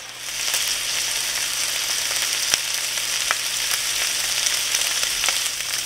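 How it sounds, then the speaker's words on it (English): Steady, dense sizzling of bacon frying slowly in a pan, a continuous crackling hiss with occasional sharper pops, no voices. "The bacon has started to cook and you could hear it sizzle now."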